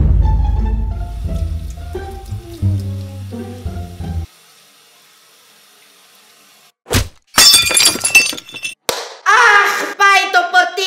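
A drinking glass breaks in a home with a sudden loud crash and scattering tinkle of shards, after a stretch of music and near silence, followed by a voice.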